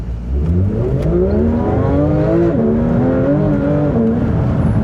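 Porsche GT3 RS engine roars at full throttle in track mode, revs climbing through several gear changes, loud and close, with no one talking.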